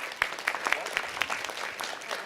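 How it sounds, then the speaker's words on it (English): Scattered applause from a small audience at a Las Vegas city council ceremonial meeting, with a handful of distinct close claps standing out over a soft, brief patter. "Give them a nice round of applause."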